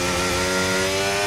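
A Formula 1 car engine exits a corner in the F1 25 racing game, a loud, buzzing harmonic engine note held steady over a short burst.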